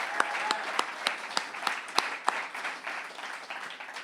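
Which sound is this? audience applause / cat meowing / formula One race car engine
audience applause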